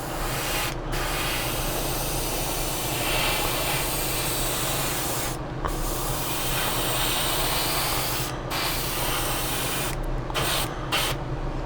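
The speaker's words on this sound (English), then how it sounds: "I'm going to refill the airbrush, then I'm going to spray it on a bit heavier." An airbrush hisses steadily as it sprays paint onto a model car body, a close continuous spray broken by a few short pauses.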